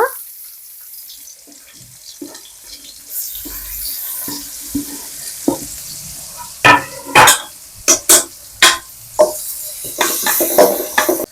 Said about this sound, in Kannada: ಚೆನ್ನಾಗಿ ಫ್ರೈ ಮಾಡ್ಕೊಳ್ಳೋಣ ಚೆನ್ನಾಗಿ ಬೆಂದಿದೆ ಈರುಳ್ಳಿ